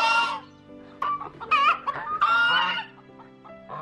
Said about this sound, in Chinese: 他在这里咕哒哒，他不会又跑来这里下蛋了吧？